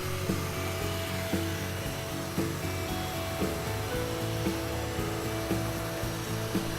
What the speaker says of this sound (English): Start applying heat in the center of the sample and roll from the center out to the edges, following closely behind the heat gun